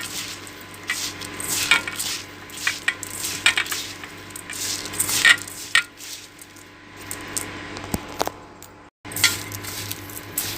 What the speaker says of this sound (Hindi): हाथ से करना है गाइस, क्योंकि चम्मच से आप उतने अच्छे से मैरिनेशन नहीं कर सकते हो।